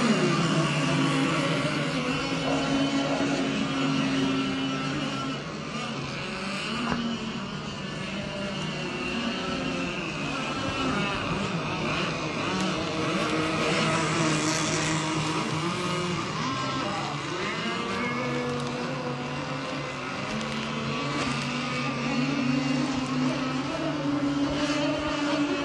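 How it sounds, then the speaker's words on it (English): A pack of gas-powered LS 27 mono racing model boats runs on the water at a national race meet, their high engines buzzing and droning together steadily, the pitch rising and falling as they pass, with no talk. "I see 6 boats on the water,"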